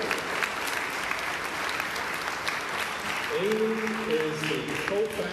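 An audience claps steadily at a debate event, moderate and even, as a voice speaks briefly near the end of the applause.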